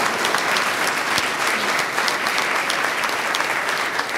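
Sustained applause from an audience at a Waldenström's macroglobulinemia patient education forum: dense, even clapping that fills the room for several seconds without pause.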